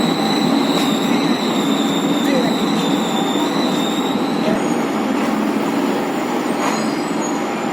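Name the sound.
EMU local suburban train running, Avadi to Chennai Central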